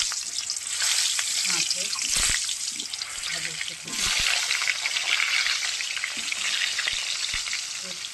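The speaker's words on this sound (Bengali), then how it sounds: "এবার আমি আলুটা ভেজে নেব" Potatoes frying in a pan of oil for a fish dish, a dense, steady sizzle close up with occasional utensil taps, while someone talks briefly over it.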